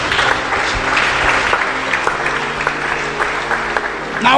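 A church congregation claps together in sustained, dense applause that fills the room throughout, with voices calling out faintly amid the clapping.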